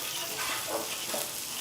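A tablespoon of olive and avocado oil blend sizzles and crackles on a hot Blackstone flat-top griddle, an even, close frying hiss with no talking.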